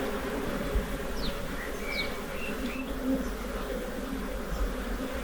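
Bees buzz in a nest inside a garage wall, a dense, continuous low hum of many insects close by, steady throughout with no talking.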